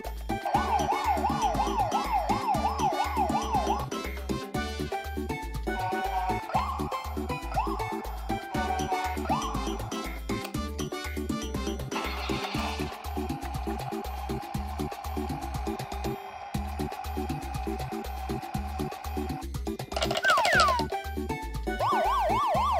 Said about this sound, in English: First is this black colored police car. It has three different sounds.